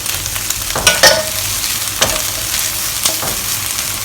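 Chili paste and lady's finger stir-fried in a hot wok: a steady sizzle throughout, broken by a few sharp scraping stirs of the spatula near the start and at about two and three seconds, with no talking.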